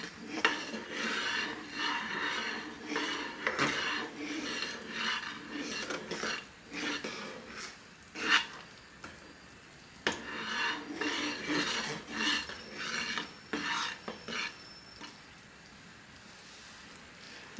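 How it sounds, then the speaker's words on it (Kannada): Sabudana kheer (payasa) with almond powder being stirred in a pot at home, a continuous rasping scrape of a spoon against the pot with repeated strokes and short pauses. "ಈಗ ಇದನ್ನು ಚೆನ್ನಾಗಿ ಮಿಕ್ಸ್ ಮಾಡ್ಕೊಳ್ಳೋಣ."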